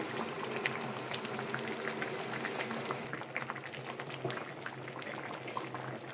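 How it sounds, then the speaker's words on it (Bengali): A pot of vegetable khichuri with cabbage, greens, tomato and capsicum bubbles at a steady boil, soft continuous popping and gurgling throughout, with no talking. "আমার সবজি দেওয়া শেষ, এখন শুধু সিদ্ধ হওয়ার পালা"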